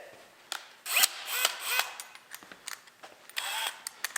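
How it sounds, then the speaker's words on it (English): A power drill with a brad point bit bores into a wooden tabletop, with bursts of high whirring and grinding at varied pressure. The gaps are short, and some mechanical clicks come between them. "Now, we're about to start drilling into our beautiful tabletop."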